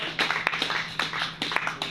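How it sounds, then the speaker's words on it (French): A church congregation in Kolwezi claps for the Lord during a Sunday sermon, a steady rhythmic clapping of many hands with a faint voice beneath. "Acclamez pour le Seigneur."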